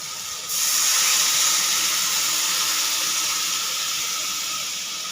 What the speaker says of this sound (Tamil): இப்போ 2 கப்பு தண்ணி எடுத்து ஊற்றுறேன் நான்.